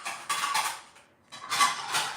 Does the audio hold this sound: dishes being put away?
yes